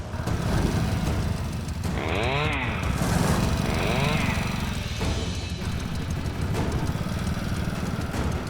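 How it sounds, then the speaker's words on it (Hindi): A motorcycle engine runs at a steady idle, a loud, close, chugging putter throughout, while a voice speaks over it for a few seconds partway through. "बाइक स्टार्ट कीजिए।"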